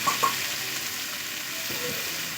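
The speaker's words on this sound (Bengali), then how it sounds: "এবার আমি খুব ভালো করে ভেজে নেব আলুগুলো" Potatoes frying in oil with salt, a continuous close sizzle with a few soft stirring clinks near the start.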